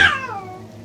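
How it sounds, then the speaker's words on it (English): A stray cat meows outside a front door: one short, loud, falling cry with a fading tail. "I think a stray cat might be going by my,"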